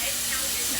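Steak laid into a hot pan, giving a loud, steady broadband sizzle and hiss close up that holds without a break.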